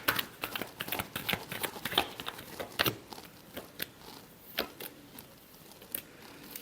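Tarot cards shuffled by hand in a quiet room, a quick run of soft riffling flicks and slaps that loosen into scattered taps toward the end.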